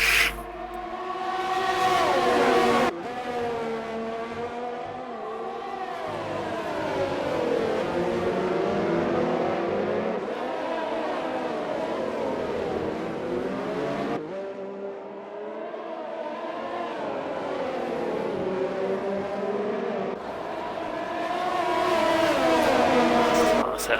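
Several race cars in a racing video game fight for position at Singapore, engines droning and shifting pitch together as they pass, with a sharp cut partway through.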